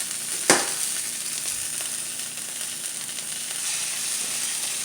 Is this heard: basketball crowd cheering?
no